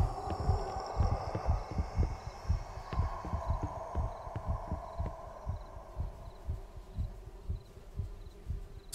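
A pounding heartbeat from the horror video game Paranormal Cleanup: Stafford Ln., with steady low double thumps repeating throughout at a moderate pace under a faint ambient hum, no talking.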